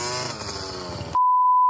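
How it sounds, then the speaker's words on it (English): A KTM 50 dirt bike ridden by a child buzzes and revs loudly on a motocross track for about a second. The engine then cuts off abruptly into a steady, pure electronic tone. "We got Kaido on the KTM 50 today."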